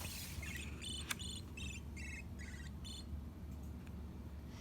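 A cricket rubs its wings to make a series of short, bright chirps in quick bursts over a soft, steady background hum.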